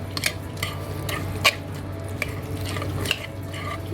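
Chopped mint is stirred into chicken chargha masala in a pan, soft scraping strokes and occasional spoon clinks over a low, faint sizzle and a steady hum.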